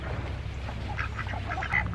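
Ducks quacking nearby in a backyard flock, several short scattered calls over a steady low background hum, with no one talking.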